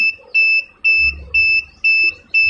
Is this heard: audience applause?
no